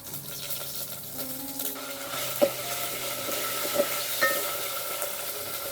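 Ginger garlic paste frying in oil with whole spices for mutton paya soup, a soft steady sizzle with a few light clinks and stirring scrapes close by.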